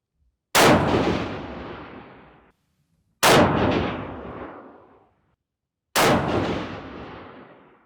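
Three loud 7mm PRC rifle shots at an outdoor shooting range, fired prone from a Defiance Anti-X long-action build, each a sharp close crack with a long decaying echo, spaced about two and a half seconds apart.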